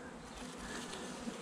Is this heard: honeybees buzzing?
yes